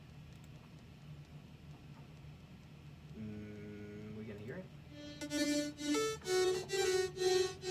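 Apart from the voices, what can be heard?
synthesizer patch playing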